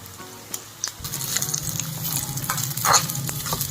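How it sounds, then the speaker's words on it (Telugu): Cashews and almonds fry in a pan as a festival offering is prepared, a close sizzle that grows louder after a quiet start, with scraping stirs and small pops. "జీడిపప్పు బాదం పప్పు కూడా వేసుకుని వేయించుకుందాం"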